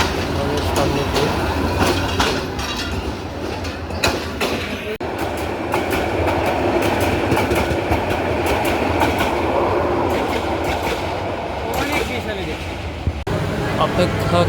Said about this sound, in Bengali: অপেক্ষা করতে করতে 2-3টা ট্রেন চলে যায় আমাদের সামনে দিয়ে